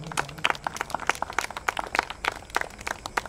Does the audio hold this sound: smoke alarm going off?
no